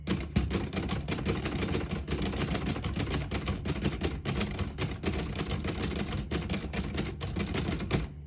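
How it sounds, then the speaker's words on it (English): Rapid clacking of typewriter keys on a 1940 Remington Deluxe Noiseless portable typewriter strikes in a steady stream, close and crisp, with occasional heavier thumps, no talking. "I'll type a sentence on the next line."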